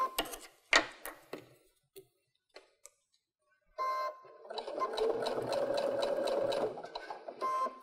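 A sewing machine stitches a pillow front, first a few scattered clicks and taps, then a steady fast mechanical whirr running for several seconds, close and clear.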